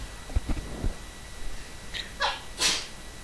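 A woman sneezes once, sharp and close, after a few soft breaths and small rustles, with a second quicker burst of breath just before it.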